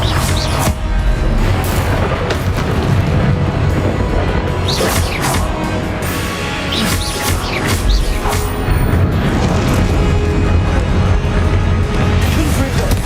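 Confringo spell blasts in a Harry Potter Wizarding World game, loud dense crashes and booming impacts stacking over one another in continuous, chaotic spell combat with no clear gaps.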